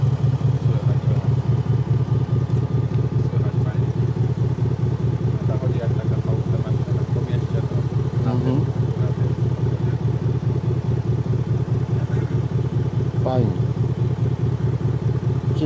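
BMW G30 diesel engine runs while driving at about 65, a steady low, rhythmic drone with faint clatter heard from inside the cab, loud and constant throughout.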